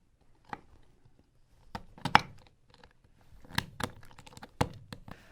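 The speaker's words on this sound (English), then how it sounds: "I am just going to go old school today with a knife on a cutting board." A knife chops cherries on a cutting board in a quiet kitchen, giving sparse, irregular sharp taps and clicks in small clusters separated by short silences.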